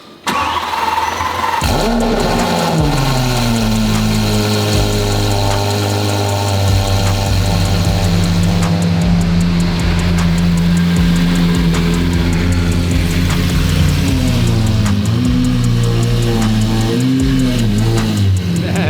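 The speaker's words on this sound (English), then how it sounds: "you guys love this straight piped SVJ, so I know you're waiting for a cold start" Straight-piped Lamborghini SVJ V12 cold start: a loud, close starter whirr catches into a roaring, high-revving idle that holds steady with blips and surges, no talking.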